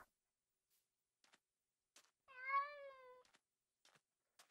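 A single clear cat meow from a Minecraft Mo'Creatures cat rises and falls over about a second in otherwise quiet game audio, with a few faint clicks before and after.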